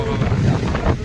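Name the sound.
strong wind at Mukteshwar Dam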